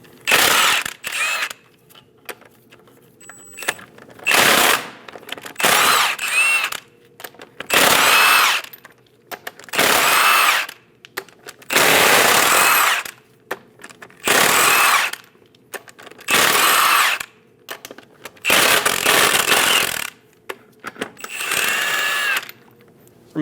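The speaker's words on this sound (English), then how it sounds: "Using a 22mm socket, remove all 8 lug nuts." Impact wrench with a 22mm socket spinning off the eight front wheel lug nuts on a 2001-2006 Chevrolet Silverado 2500 HD, loud ratcheting bursts of about a second each repeating in a steady rhythm with short quiet gaps between.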